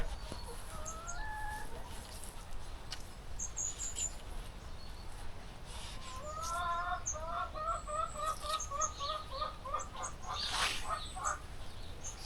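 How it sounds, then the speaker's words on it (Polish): A hen clucks repeatedly in quick, rhythmic bursts amid outdoor ambience, with other birds chirping faintly in the background. "Tak gdaczy."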